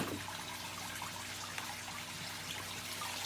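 Water trickles and drains steadily out of the bottom of a pumpkin seedling pot after watering with rainwater, a faint continuous dribble with no talking.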